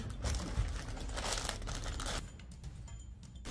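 Close crinkling and rustling of thin plastic, continuous and busy for a few seconds before softening.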